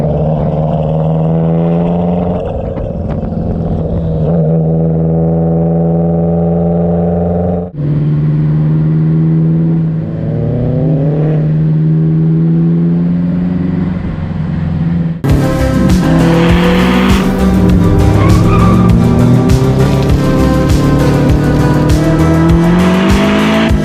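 A built 2001 Subaru Impreza RS STI accelerates hard, its engine climbing loud and close through several gears while tires squeal, the roar rising in pitch with each pull and no voices.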